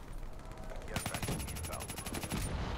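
Rapid automatic gunfire in a video game, a burst of quick evenly spaced shots partway through, fairly faint and mixed with game sounds.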